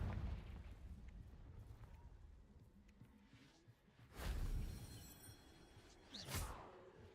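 A Confringo fire spell goes off in Hogwarts Legacy with a whooshing burst about two thirds in, then a shorter second blast near the end, over a low quiet rumble.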